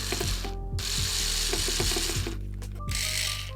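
A power drill whirs in short bursts with clicking, ratcheting pulses as screws are driven into the wood of a hedgehog house, the motor stopping and restarting a few times, close up.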